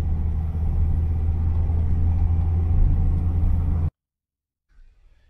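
A car drives along toward Westminster Abbey, with a steady low engine rumble that cuts off abruptly, followed by near silence and a brief faint low sound.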